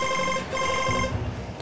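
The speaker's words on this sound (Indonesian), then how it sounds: "Sekretarisnya bokap tumben-tumben banget telepon gue." A telephone rings with a steady electronic ringtone, loud and close, sounding continuously with no talk.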